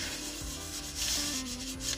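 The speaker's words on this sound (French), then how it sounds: "on masse le papier sur notre gel presse" A hand steadily rubs and presses a sheet of paper onto a gel press printing plate, producing a continuous close, soft scuffing sound with no speech.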